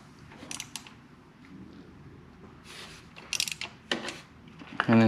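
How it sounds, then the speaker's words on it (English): A hand wrench ratchets as GB Racing crash protection case saver bolts are tightened on a 2022 Kawasaki ZX6R Ninja, a few short, close metallic clicking bursts separated by quiet handling. "just use your hand wrench"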